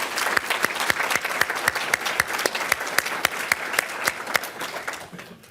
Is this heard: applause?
yes